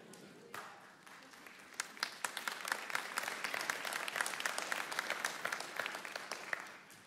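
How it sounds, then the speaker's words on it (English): A church congregation breaks into applause after a sermon line, starting scattered and building into dense clapping with sharp individual claps standing out, faint crowd voices mixed in. "If you're going to clap, you clap."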